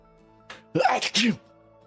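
A single loud, close sneeze with a short breathy intake before it, sharp and alone in a quiet room.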